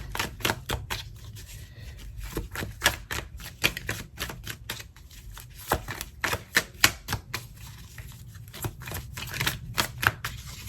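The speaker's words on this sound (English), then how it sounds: "I will cut the deck and pull from the top" A tarot card deck being cut and shuffled, a quiet run of rapid crisp riffling clicks and soft slaps continuing steadily throughout.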